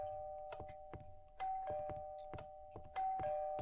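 A video game doorbell in Parcels chimes twice, a clear two-tone ding-dong ringing out each time, amid soft knocks and shuffling in a quiet room.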